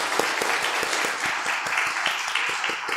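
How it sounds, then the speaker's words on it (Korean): A church congregation applauds during a Sunday worship service to welcome a new pianist, a steady wash of many hands clapping in a hall with scattered sharper individual claps. "네, 박수하겠습니다"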